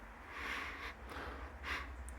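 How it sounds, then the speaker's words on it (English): Someone sniffing at glue on PVC acoustic diffuser panels: two or three breathy, close sniffs in quick succession, soft and airy, with no talk. "sniff test"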